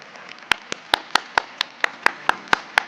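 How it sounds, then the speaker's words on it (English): Around a dozen sharp, evenly spaced claps ring out at a tech talk in Hong Kong, sounding like a few people in the audience clapping rather than a full crowd. "can we have a big round of applause to Sergey?"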